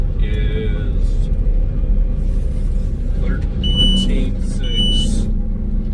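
A 155 HP Lamtrac 6160T tracked loader carrying a mulcher rumbles at close range, its heavy diesel engine droning steadily while short high electronic beeps sound over it.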